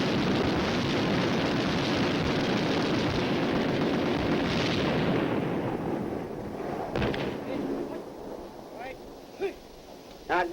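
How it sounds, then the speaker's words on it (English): Tanks fire 90-millimeter guns alongside several machine guns in a dense, continuous roar of overlapping blasts and rattling bursts, heard from a distance; the barrage ends abruptly, leaving wind and a few scattered late reports. "those tanks only fired 13 seconds"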